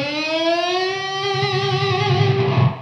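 Distorted electric guitar harmonic squeal, a single sustained high, pitch-bending whistle rich in overtones that slowly drifts and wavers for about three seconds, heard alone.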